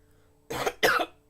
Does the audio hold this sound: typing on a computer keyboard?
no